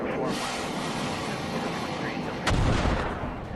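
Bombs explode in the military simulation game Command: Modern Operations, a dense rumbling blast texture capped by a sharper, heavier detonation near the end.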